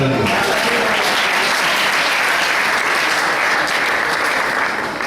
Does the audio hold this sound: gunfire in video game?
no